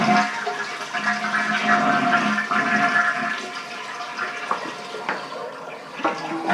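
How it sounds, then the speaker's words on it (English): A household toilet is flushed during a Duo Flush install, with the water supply turned off. A loud rushing gurgle of water drains close up, then thins to trickling and faint splashes. "We're going to flush it, and I'm going to leave this tank empty,"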